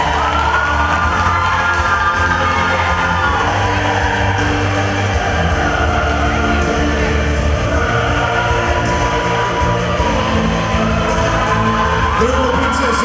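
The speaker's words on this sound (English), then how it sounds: "Give the royal princesses a big round of applause once again" A large outdoor crowd at a pageant cheers, whoops and shouts continuously and loudly for the royal princesses, with children's high yells rising over the dense roar.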